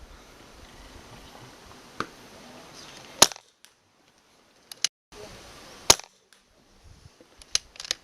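Sharp, isolated cracks from a Daystate Delta Wolf air rifle shooting outdoors at distance, about five or six short reports spread irregularly over several seconds against a quiet breezy background.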